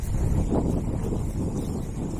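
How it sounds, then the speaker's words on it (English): Steady wind rushes and rumbles against the microphone, loud and constant for a couple of seconds with no talking. "It's getting pretty windy"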